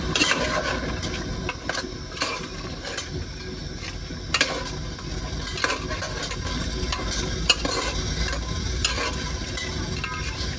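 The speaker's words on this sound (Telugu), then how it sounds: "అల్లం వెల్లుల్లి పేస్ట్ వేసుకున్నాం. బాగా కలుపుకొని" Ginger garlic paste stirred and frying in a pan, cooked outdoors under a truck, with a continuous sizzle broken by repeated scraping and clanking of a spoon against metal, close by and with no speech.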